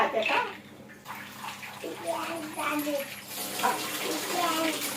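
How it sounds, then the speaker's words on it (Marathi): Soaked chickpeas, chole and rajma rinsed in water in a home kitchen, with running, splashing water sounding steadily up close as a voice talks over it. "तर इथे मी ते पुन्हा एकदा स्वच्छ धुवून घेतले."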